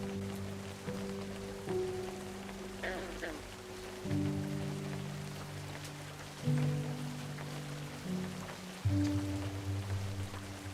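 Steady rainfall from the video game A Story Beside hisses softly throughout, layered under sustained low game music tones.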